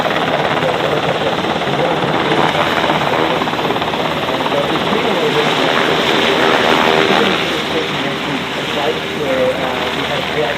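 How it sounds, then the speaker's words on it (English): A large military submarine rescue helicopter flies at the Avalon airshow in Australia, a loud continuous rotor and engine roar that stays steady and close throughout, with a voice talking over it. "Look, our Beech submarine rescue helicopter, really big helicopter."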